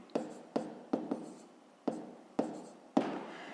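Hand writing on paper during a grade-five arithmetic lesson: a handful of short, sharp pen or chalk strokes taps spaced irregularly, close and fairly quiet, with no talk over them.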